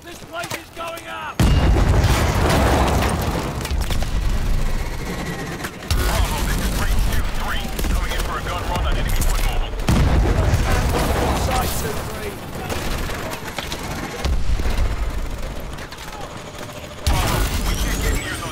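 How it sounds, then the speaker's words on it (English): Heavy booms of pressure explosions and bursts of gunfire roll through a loud, chaotic video game battle scene in Call of Duty: Advanced Warfare, with voices shouting between the blasts. "Pressure explosions! This place is going up!"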